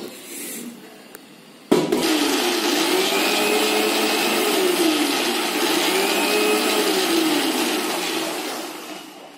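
After a quiet moment, an electric mixer blending curd and water into buttermilk whirs on abruptly and runs loudly, its motor pitch wavering up and down, easing slightly near the end.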